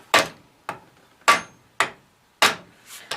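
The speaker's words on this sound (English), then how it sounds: "So we're going to set the rivet that holds the arm onto our lever, simply using a bucking bar." A sledgehammer taps the end of a soft rivet held against a bucking bar on a John Deere enclosed clutch lever, giving six sharp metallic knocks in an uneven rhythm, close and clear with quiet gaps between.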